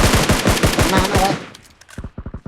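Rapid bursts of automatic gunfire in a shooter video game ring out in a fast steady rhythm, then give way to a few sparse clicks and a tighter volley of shots at the end.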